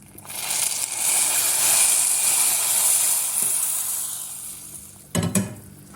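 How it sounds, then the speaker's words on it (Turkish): Hot sauce poured over yogurt soup (yayla çorbası) gives a steady close sizzle and hiss lasting several seconds, ending with a short clatter near the end. "Sosumu çorbamın üzerine döküyorum."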